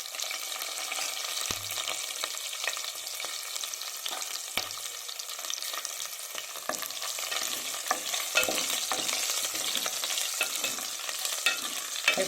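Green chilies and crushed garlic fry in a hot pan, giving a steady close crackling sizzle with occasional stirring scrapes for the whole stretch, no voices.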